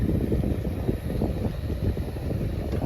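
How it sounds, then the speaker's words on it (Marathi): Strong wind blows hard across a field hut during heavy rain, a loud, constant low rumble and buffeting against the microphone with no pauses. "आणि इकडून जोरदार वारा येतोय आणि पाऊस पण जोरदार आहे"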